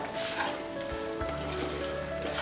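Tomato jam with cinnamon and cardamom being stirred in a hot pan, a constant sizzling hiss with a couple of soft scraping knocks from the spoon, close and steady.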